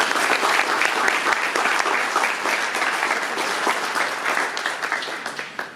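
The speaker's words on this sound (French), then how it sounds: "on peut peut-être l'applaudir tout de suite" A room of people gives continuous, dense applause at an evening gathering, close and steady before it thins into scattered claps at the end.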